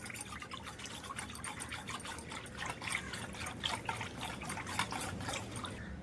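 Water pours and sloshes with rapid, rhythmic splashing as curd is whisked with it for kadhi, steady and close throughout.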